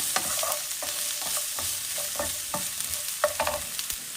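Ginger sautés in a pan as the base for a Kerala mango fish curry, with a steady close-up sizzle broken by frequent short scraping stirs and no voices.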